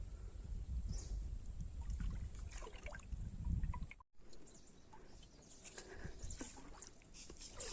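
Oars paddle a small wooden boat along a river, giving steady soft splashes and water rustle with faint birds in the background; the strokes drop out briefly midway and then go on.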